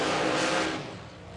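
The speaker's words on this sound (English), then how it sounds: "that car's loud" A loud drag racing car engine roars nearby and then fades over a second or so as it pulls away, with broadband exhaust noise that thins toward the end.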